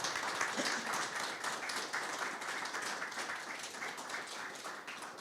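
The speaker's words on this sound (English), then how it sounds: "let me ask you for a big applause for" An audience at a panel discussion applauds the men on stage, sustained even clapping spread across the room, moderately loud and continuing without pause.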